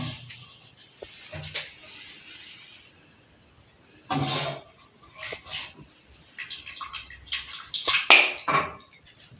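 A ladle scraping and tapping against a pot while restaurant-style chickpea curry (cholay) is served onto a plate, with intermittent clinks and soft wet spoon sounds, close by in a quiet kitchen.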